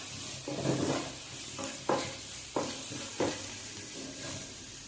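Green chillies and onions sautéing in a pan give a soft, steady sizzle, broken by three or four louder scrapes and knocks of a stirring spoon against the metal, close by and with no talking.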